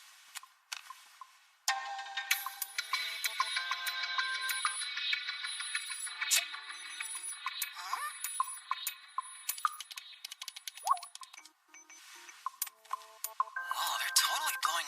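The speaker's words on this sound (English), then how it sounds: "Whoa, they're totally blowing up my phone." A phone chimes with a rapid flurry of incoming message notification tones, a busy run of short bright pings and clicks that is mostly close and fairly quiet.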